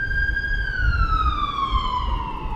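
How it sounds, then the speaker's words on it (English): An ambulance siren passes by nearby, its steady wail sliding lower in pitch as it moves away against a low background rumble. "These ambulances go by."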